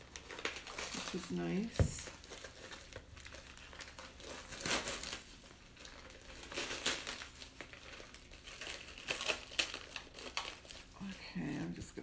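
Plastic bag peeled and crinkled away from a freshly cast resin bowl, soft crackling and rustling running steadily and close, with a person talking over it throughout.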